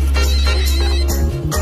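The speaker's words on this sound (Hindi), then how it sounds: "ये लो पिंकी, तेरी जीजा जी का फोन है" A phone rings steadily over a loud, low background hum, with a clear repeating ringtone throughout.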